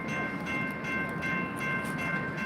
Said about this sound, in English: There's another trolley coming in.